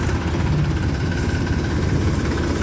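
A tractor engine rumbles close behind, steady and low with a constant throb in a continuous, loud drone, while driving to a sugar mill with sugarcane; no voices.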